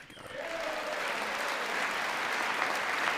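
Members of Congress applaud during Trump's first address to Congress, a dense, steady wash of clapping that holds at a constant level throughout.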